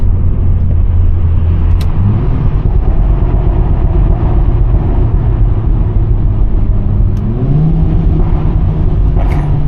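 A VW Golf 7.5 GTI on a night drive keeps a steady, loud low engine drone, with the pitch climbing in stages as it accelerates through the gears, the tone holding its stock character with no voices.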